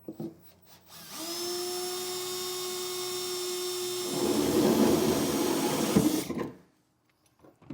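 A power drill whines up to a steady high pitch, then bites into an aluminum truck bed with a rougher grinding tone for a couple of seconds before stopping.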